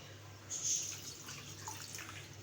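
Water pours from a glass into a cooking pot of aloo gosht, a soft brief splashing rush that swells and fades over low background hum.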